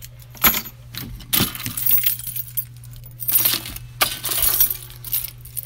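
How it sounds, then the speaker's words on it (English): Keys jangle and clink close by in several bursts as someone rummages through keychains hunting for van keys, with short pauses between the rattles and no talking. "Here are some random keys."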